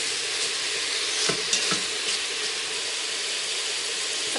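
Pork belly browning with ginger in an Instant Pot gives a steady, close, continuous sizzle, with a few light stirring clicks and no talking.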